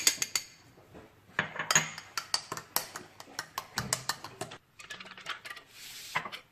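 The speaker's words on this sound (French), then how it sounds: "Le lait, il est un peu tiède, donc j'ajoute les 2 poudres dedans et je mélange." A spoon stirs powders into lukewarm milk for a cake, with irregular light clinks and taps against a bowl. Close and fairly quiet, the sounds come in quick bursts with short pauses and no talking.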